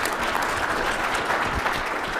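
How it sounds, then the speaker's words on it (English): A short burst of dense audience applause at a tech conference SDK challenge, steady and fairly loud throughout with no voices breaking through. "Round of applause"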